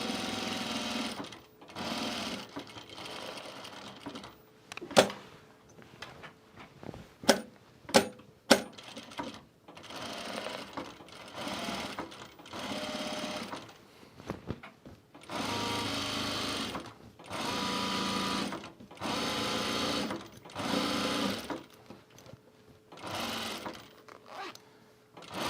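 A sewing machine stitches a garment duffle bag in repeated bursts of rapid mechanical whirring and chattering, separated by pauses with sharp clicks and taps, close and fairly quiet, with no talk.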